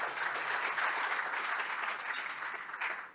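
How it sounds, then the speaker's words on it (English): A crowd claps steadily for a few seconds at a panel discussion, a dense, even patter of applause without voices on top. "big round of applause for John."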